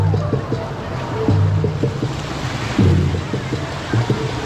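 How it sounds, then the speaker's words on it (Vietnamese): Waves roll and wash continuously in an artificial indoor beach wave pool, a loud, steady surf roar with voices faintly mixed in the background. "Biển giả mà như biển thiệt vậy."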